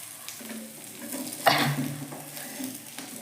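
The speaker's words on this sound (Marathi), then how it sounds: "हे बघा, हे कसं फ्राय होतं एकदम" A dosa frying on a plain, non-nonstick griddle, a soft, continuous sizzle with a brief scrape and crackle midway, close and alone without talk.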